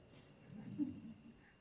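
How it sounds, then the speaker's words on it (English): Crickets chirp faintly as a thin, steady high trill in a quiet outdoor setting, with a soft low rumble swelling briefly in the middle. "do you hear what the cricket is saying?"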